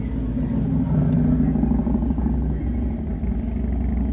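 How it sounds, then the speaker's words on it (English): A motorcycle passes on a street in Gettysburg, its steady low engine drone rising and falling over a few seconds, fairly loud and continuous, heard outdoors with background bustle. "there's a motorcycle coming by."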